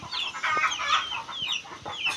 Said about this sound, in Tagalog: Nangitlog po yata ang manok at namumutak.